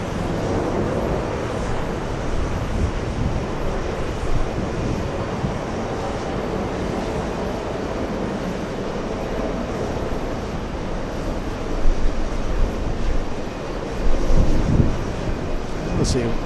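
At JFK airport, jet aircraft including an Atlas 747 taxi toward the runway, making a steady broadband engine roar from a moderate distance with brief swells, while a voice talks over it.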